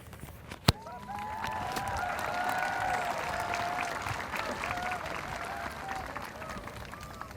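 High school graduation audience applauding, a steady, moderately distant crowd of clapping with a sharp thump near the start and voices mixed in.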